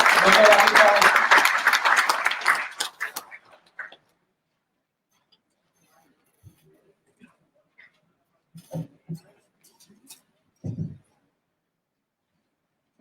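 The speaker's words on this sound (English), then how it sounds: "There is a good round of applause for Dr. Rakesh Rawal." Audience applause for a speaker at an education-to-entrepreneurship seminar, a dense round of clapping that fades out within a few seconds, followed by near silence with scattered small knocks.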